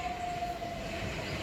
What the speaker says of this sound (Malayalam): ട്രെയിൻ വരുന്ന കാഴ്ചയാണ് കാണുന്നത്